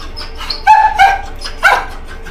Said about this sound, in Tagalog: So, ang aso namin.